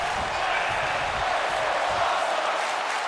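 Crowd noise at a wrestling show in an AEW Universe Mode video game forms a dense, continuous roar of cheering voices with faint thumps underneath.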